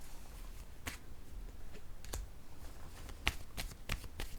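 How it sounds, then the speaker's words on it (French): Cards drawn from a deck one after another, a few short crisp snaps and rustles spread across the moment, close and fairly quiet. "Je vais piger 2 cartes de mon jeu haut maintenant."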